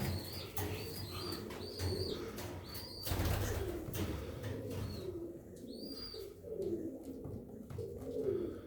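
Austrian king pigeons in a wire aviary, cooing repeatedly with bursts of wing flapping and chirps; several birds nearby, no talking.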